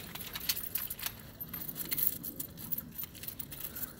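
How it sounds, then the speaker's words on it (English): A large bunch of keys jangles and clinks close by in steady, restless bursts for several seconds while someone digs through a pocket for the right keychain. "Got too many keys on me."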